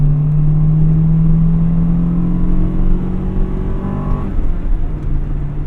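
A 1998 Acura Integra Type R engine drones loudly and steadily from inside the moving car, its pitch gliding downward and then climbing again as the revs change.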